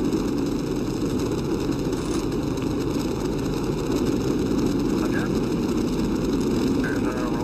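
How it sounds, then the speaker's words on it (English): The Apollo 9 Saturn V rocket roars at liftoff in a continuous, dense rumble that holds steady throughout, with radio voices talking faintly over it. "We have liftoff at 11 a.m."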